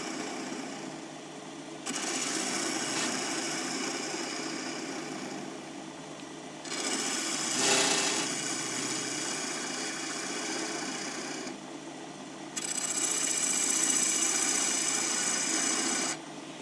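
A wood lathe turns cherry wood at 1500 RPM with a steady high whir and scraping tool contact that swells and eases in sections, close and continuous without speech.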